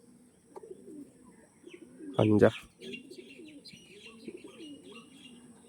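Pigeons at a breeder's loft, including Andhra, Malabai and Arshad breeds, give soft repeated coos with a few chirps. A brief burst of a voice cuts in partway through.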